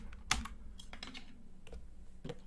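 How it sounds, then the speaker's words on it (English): A spacebar pried off a computer keyboard by hand, heard up close as a loud snapping crack followed by a few lighter plastic clicks and rattles, with no talking. "rip your fucking spacebar off of your keyboard with your bare hands like a man"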